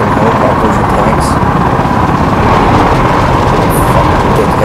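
A helicopter in the online shooter game Battlefield Play4Free, a loud continuous rotor and engine drone with steady rumbling texture throughout.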